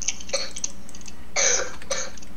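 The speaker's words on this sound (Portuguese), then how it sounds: "Desculpa pela tosse." A sick gamer coughs a few times during a Minecraft SkyWars session, short throaty bursts close to the microphone, spaced apart over a quiet background.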